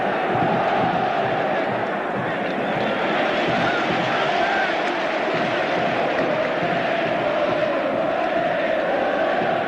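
A large stadium crowd at a 1987/88 Argentine league football match between San Lorenzo and Boca roars continuously, a dense, loud, sustained wall of cheering and shouting without any clear pause.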